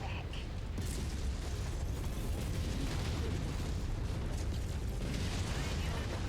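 A mech blowing up in MechWarrior 5: Mercenaries, a dense, sustained roar of explosion and battle noise with rumbling low end and no clear pauses.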